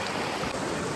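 Mountain stream water flowing steadily near a cave-hunting trail, a loud continuous rush with no talk over it.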